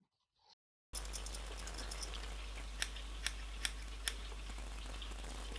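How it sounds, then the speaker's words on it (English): Scissors snipping hair while cutting bangs, four crisp, close snips spaced about half a second apart over a steady low hum. "If not, lift slightly again and snip."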